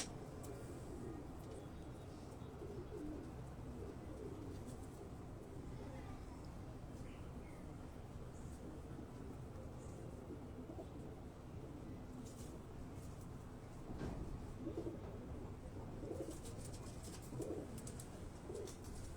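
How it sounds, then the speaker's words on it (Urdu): Pigeons coo softly in their separate compartments on a Karachi rooftop loft after feeding, low murmuring calls repeating over a quiet background, with a slightly louder stretch near the end. "کبوتر جو ہیں وہ الگ الگ اپنے اپنے خانوں میں، انہیں دانا پانی کے بعد وہ اپنے اپنے خانوں میں چلے جاتے ہیں"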